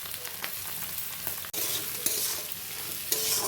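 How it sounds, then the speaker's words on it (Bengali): A spatula stirs prawns, chicken, egg and paneer through mixed fried rice in a hot pan, producing a continuous close sizzle with scraping strokes and a few sharp clacks against the pan. "এরপর এর মধ্যে দিয়ে দেওয়া হয়েছে ভেজে রাখা চিংড়ি, চিকেন, ডিম আর পনির, সমস্ত কিছু ভালোভাবে মিশিয়ে নেওয়া হচ্ছে।"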